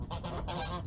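A goose on a farm near a chicken coop lets out harsh, loud honks close by, a continuous raspy calling that fills the moment with no talking.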